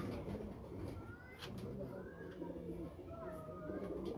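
A Lal Toofan pigeon, a rooftop-kept breed, coos in soft low murmurs with a few thin chirps over steady background noise, while people talk faintly nearby.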